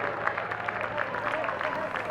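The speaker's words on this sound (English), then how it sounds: "You can hear the crowd trying to get them back in a rhythm here" Crowd noise at an indoor 3000m track race for boys fills the clip, a steady roar of cheering and clapping held at an even level throughout, with talk mixed in over it.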